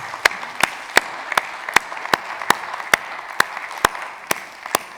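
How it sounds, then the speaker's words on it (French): Sparse audience applause for speakers at the end of a talk on quantum technology, about a dozen distinct claps in a steady loose rhythm, fairly close and moderately loud with no talk over them. "On peut applaudir nos intervenants quand même."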